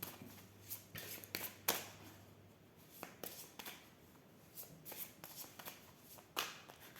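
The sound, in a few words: shuffling oracle cards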